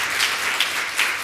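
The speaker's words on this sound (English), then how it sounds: "Another round of applause." Brief burst of audience applause at a sarcoidosis symposium, full and close, with a few louder swells of clapping.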